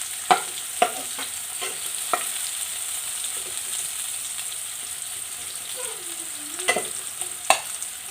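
Rava upma cooks in a pan: a steady close sizzle with a handful of scraping stirring strokes scattered through it, and no talking.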